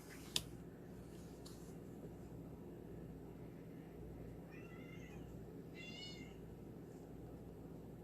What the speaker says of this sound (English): Here comes the cat to make a mess out of the cards.